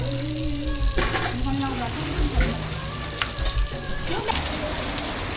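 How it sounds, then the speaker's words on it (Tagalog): Heavy rain falls in Botolan, Zambales, a continuous hissing patter with scattered louder splashes, while people talk nearby and tonal voices cut in and out over the downpour. "Ang lakas pa rin ng ulan."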